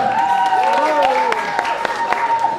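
Applause rises in the hall at the grand final of the Miss BashGU 2019 pageant at Bashkir State University, clapping blended under loud stage music and voices.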